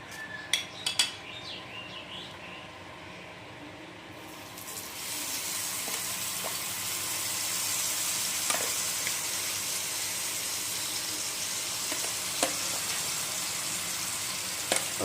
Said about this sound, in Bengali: আর পেঁয়াজের পেস্টটা আপনাদের একদম যতক্ষণ পেঁয়াজের ময়েশ্চারটা না চলে যায় ততক্ষণ ভেজে নিতে হবে।